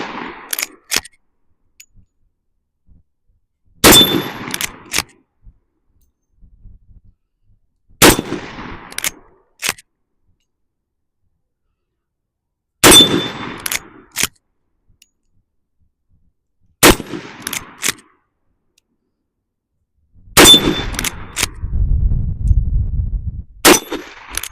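A Heritage 92 .357 lever-action rifle fires hot loads: about seven sharp, loud cracks spaced several seconds apart, each with a short ringing tail and quiet gaps between.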